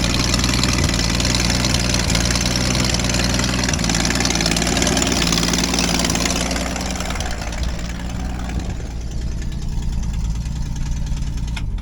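A 1966 Mustang engine with a leaking manifold runs at idle, a loud, close, steady rumble with a rhythmic pulse throughout, easing slightly toward the end.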